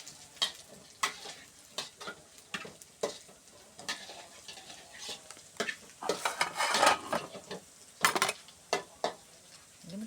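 Eggs fry in a pan with a soft background sizzle, punctuated by repeated sharp scrapes and clinks of a utensil stirring against the pan, irregular and close by.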